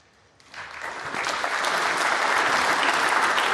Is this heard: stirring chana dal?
no